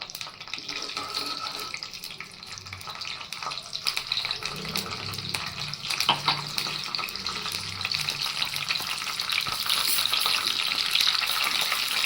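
Tempering seeds fry in hot oil for a dhaba-style palak dal, producing a steady crackling sizzle that grows louder and denser over several seconds, with no voices.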